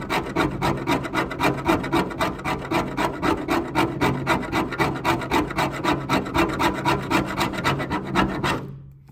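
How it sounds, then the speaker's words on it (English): Rhythmic rasping strokes of a scraper working over rusted metal on a Datsun 280Z, about two per second, close and steady for nine seconds before stopping abruptly, with no voices. "And I'll scrape over here."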